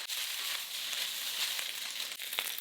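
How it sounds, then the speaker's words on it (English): Beef stir-fries in an oiled wok over high heat, producing a steady, bright sizzle with faint crackles throughout, and no voices. "Stir fry it for about 3 minutes."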